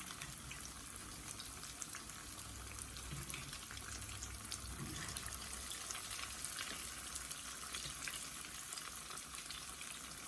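Jalapeño poppers frying in hot oil give a steady, dense sizzle and crackle for the whole stretch, fairly close and constant, with no voices over it.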